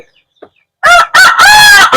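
Laying hens on a desi chicken farm give loud, close calls in three drawn-out bursts after a quiet start, with a faint cluck just before them.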